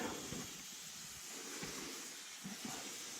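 Steam escapes with a steady, loud hiss through a hole blown in a pipe near an old church boiler room, a continuous rushing jet with small knocks underneath and no talking.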